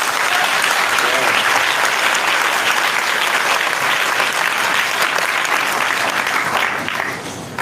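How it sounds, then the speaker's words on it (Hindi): A church congregation applauds together throughout, dense steady clapping filling the room at even loudness before thinning slightly at the very end. "आइए इस वचन के लिए ताली बजाएंगे"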